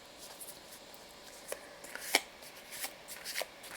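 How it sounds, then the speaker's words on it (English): A deck of tarot cards is shuffled by hand, giving soft, faint riffling and sliding bursts in an irregular rhythm, close to the microphone with no talk. "I shuffled. I put my intentions into the deck, and here we go."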